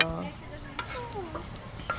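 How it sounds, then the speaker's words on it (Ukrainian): Funchoza glass noodles fry and get stirred on a sadzh pan outdoors at a dacha, a soft sizzle with light scraping and clinks, faint under the background. "дивіться, як я її підсмажу"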